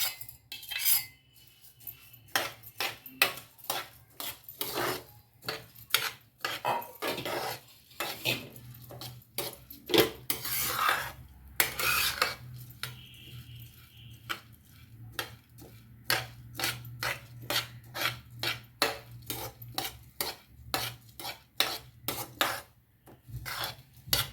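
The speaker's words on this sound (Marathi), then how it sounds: "त्याच्यात आता हे तांदूळ घालणार" Rice roasting in a pan for sweet coconut rice (narali bhat), stirred with a utensil that clinks and scrapes against the metal in a quick, steady rhythm, close up with no talking.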